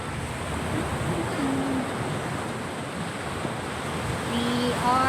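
Sea waves washing onto a beach in a steady, continuous roar of surf, fairly loud and unbroken, with some wind buffeting the microphone and faint whistle-like tones near the end.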